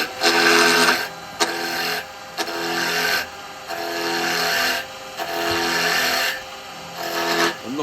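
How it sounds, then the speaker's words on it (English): A square carbide chisel cuts the corners off a wooden mandrel spinning on a lathe, giving loud rasping, scraping bursts in repeated passes of about a second each, separated by brief pauses. "So I'm going to use the square chisel first,"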